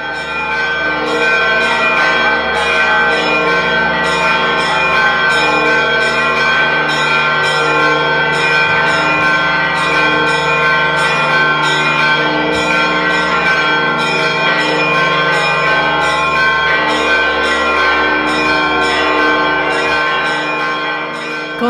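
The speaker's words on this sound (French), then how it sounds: "Quand ces cloches ont retenti dans la vieille ville de Jérusalem" Church bells ring loudly and continuously in the old city of Jerusalem, many overlapping peals blending into a full, resonant clangor that carries on without pause.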